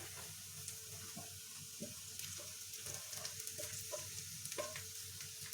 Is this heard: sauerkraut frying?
yes